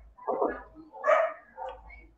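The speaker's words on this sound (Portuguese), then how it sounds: "Tem um cachorrinho louco ali fora." A small dog outdoors barks in three short, sharp yips spaced about half a second apart, heard moderately close against a quiet background.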